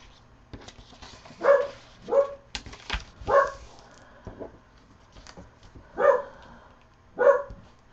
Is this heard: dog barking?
yes